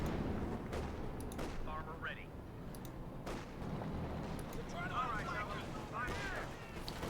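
A .50 cal machine gun fires in the Company of Heroes 2 strategy game amid bursts of gunfire and distant battle noise, with sharp repeated cracks spread through a busy, moderately quiet combat soundscape.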